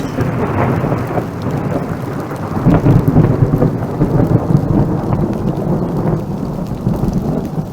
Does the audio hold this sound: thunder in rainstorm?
yes